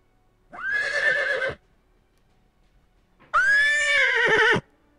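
Two long, loud horse whinnies from a weapon strap in the shooter game Knives Out sound close and separate, with a pause between them and no talk.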